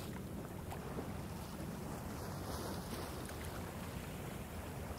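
Water washes against the hull of a sailing boat in an Icelandic fjord as a steady, soft rush mixed with wind noise, faint and continuous, with no voices.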